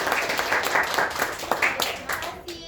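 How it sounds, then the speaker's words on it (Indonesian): Classroom applause for a student group during a micro-teaching session: a steady, dense patter of many hands clapping throughout, with voices talking over it. "Terima kasih kelompok 2, bagus banget ya jawabannya. Boleh kasih tepuk tangannya?"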